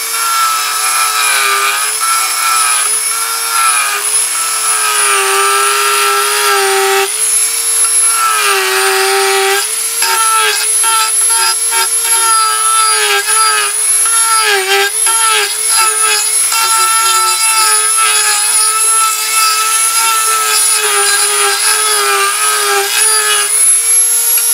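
A high, steady whine of a rotary cutter carving a wooden ventriloquist dummy, continuous and loud for the whole stretch, pitch wavering as pressure shifts.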